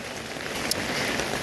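Light rain falls steadily as a soft, even hiss of fine drops outdoors, with no talk over it.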